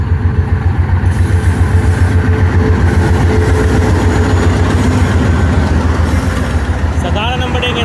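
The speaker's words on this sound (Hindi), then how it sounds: "बहाउद्दीन ट्रेन आ गई।" The Bahauddin Zakariya Express arrives at a railway station platform with a loud, continuous rumble of engine and rolling wagons. The noise stays steady throughout, and a brief tonal horn or whistle sounds near the end.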